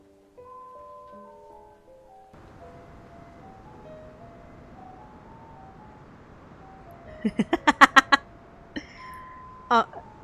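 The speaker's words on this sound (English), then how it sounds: "can you hear the ice cream truck outside?" An ice cream truck's chiming melody plays outside, faint and steady and heard from indoors, with a short burst of louder clinking tones near the end.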